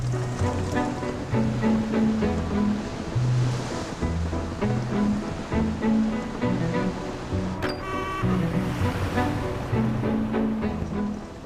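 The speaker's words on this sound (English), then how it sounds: "This is a very substantial boat." An RNLI lifeboat out at sea in a swell, with constant rushing waves and wind noise under a steady melodic music bed and no voices.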